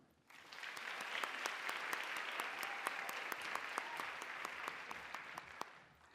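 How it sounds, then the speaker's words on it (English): A crowd at a teacher of the year celebration applauds warmly, dense clapping rising quickly, holding steady for several seconds, then tapering off. "How about one more round of applause"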